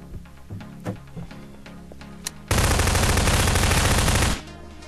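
Automatic gunfire in the video game Garry's Mod Prop Hunt: a loud, sustained burst of almost two seconds that cuts in abruptly after some scattered faint game noises.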